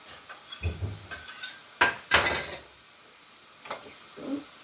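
Garlic goes into a cooking pan for spaghetti bolognese and is stirred, with a few clinks and scrapes of a utensil against the pan over a faint sizzle. No voices are heard.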